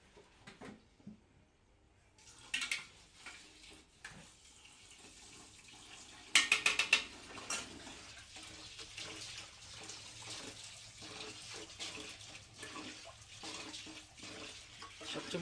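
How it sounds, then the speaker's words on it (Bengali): Rice being washed by hand in a pot of water, faint swishing and splashing with a few louder sloshes, quiet and close. "প্রথমে ভালো করে চালগুলি আমরা ধুয়ে নিচ্ছি"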